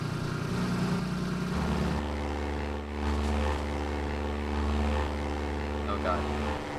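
A propeller plane in the Minecraft video game revs up and drones steadily for takeoff, a loud, sustained engine hum that holds its pitch with slight shifts throughout, with faint talk mixed underneath.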